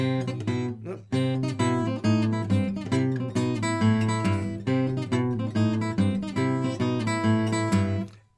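A piano plays a steady, rolling left-hand bass exercise in C with repeated low chords, loud and continuous for several seconds before stopping.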